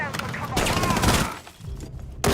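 Gunfire in an esports match of a tactical shooter game, a loud sustained burst of shots over the first second and a half with a sharper shot near the end, under energetic commentary.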